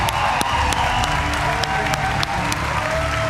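A large audience at a video game industry press conference applauds and cheers, dense steady clapping with scattered whoops filling the whole stretch.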